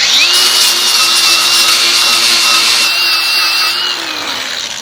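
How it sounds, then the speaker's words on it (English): An angle grinder cleans a Jeep frame, grinding metal to metal with a loud, close, sustained high whine that holds steady for several seconds and then trails off slightly. "I'm gonna clean this off a little so I get a better grind onto the frame"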